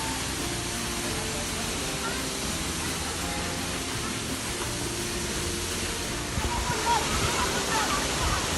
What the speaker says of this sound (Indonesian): akhirnya kita sampai juga di air terjun Kota Batu